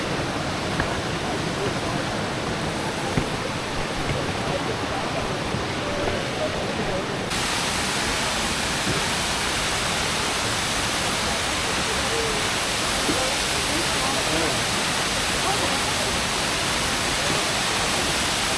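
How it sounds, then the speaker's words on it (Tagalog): A broad waterfall at Plitvice Lakes in Croatia roars with a steady, dense rush of falling water that fills the whole scene. The sound grows brighter partway through, and faint voices may sit beneath it. "Flat waterfall."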